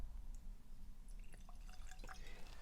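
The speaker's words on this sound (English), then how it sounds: "I'm going to pour a little bit." Baker's 7 year, 107 proof bourbon poured into a glass, giving soft dripping and trickling liquid sounds with a few brighter clinks, quiet and close over a low background rumble.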